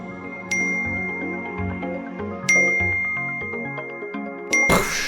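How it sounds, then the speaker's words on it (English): Three bright bell dings struck at intervals, each ringing out and fading slowly with a metallic shimmer, loud and close, followed by a brief noisy burst at the end. "I'm following the sound of the ding"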